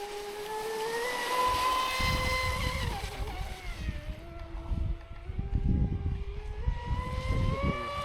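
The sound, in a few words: Traxxas Spartan radio-controlled speedboat running on water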